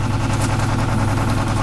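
A John Deere 4230 tractor engine idles steadily close by, a loud, even low chugging rumble without voices.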